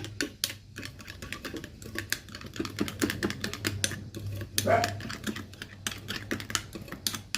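A spoon mixes turmeric paste in a small bowl, making rapid, close, continuous ticking and tapping clicks at a steady brisk rhythm, with no speech.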